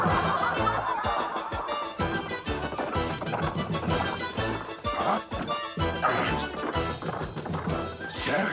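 Hound dogs bark in an animated sci-fi western series as they chase a mechanical cybernetic fox, their barks and yips recurring over dense cartoon music and effects.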